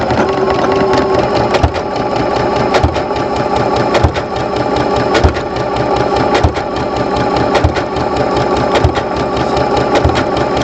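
A sewing machine stitching a garment hem runs steadily and loudly and close by, its needle clattering in a fast, even rhythm for the whole stretch.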